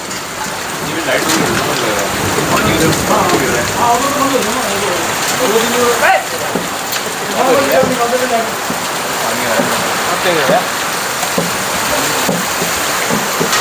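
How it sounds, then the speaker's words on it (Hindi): Heavy rain pours steadily with hail during a severe thunderstorm while people talk nearby; no clear thunderclap stands out. "थंडरस्टॉर्म आया हुआ बड़ा शदीद किस्म का।"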